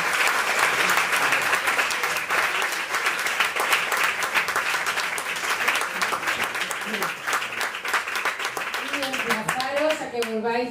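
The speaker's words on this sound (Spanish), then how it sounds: "lo que queda es dar un fuerte aplauso a Isabel por su conferencia." A hall audience claps strongly after a lecture, sustained dense applause throughout. Near the end a voice begins talking over the fading clapping.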